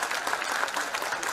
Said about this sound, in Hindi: अभी आपने ताली बजाई, बड़े खुश हुए